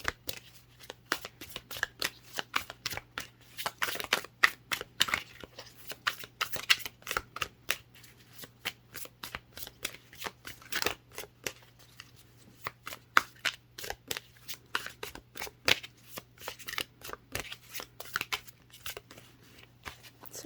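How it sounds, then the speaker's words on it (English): Rapid, irregular riffling and slapping of tarot cards being shuffled, close up, continuing for a long stretch with brief pauses and a faint steady hum underneath. "for some reason today the shuffling is just a little bit lengthy"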